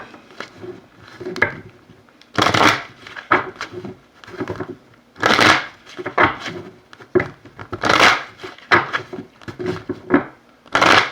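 Tarot healing cards being shuffled by hand: a series of irregular papery bursts and riffles, fairly close and loud, repeating with brief pauses between them.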